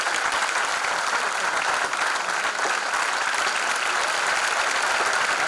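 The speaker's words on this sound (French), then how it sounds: "sous vos applaudissements" Audience at a gospel concert applauding a named bishop, continuous dense clapping that holds steady and fairly loud for the whole stretch.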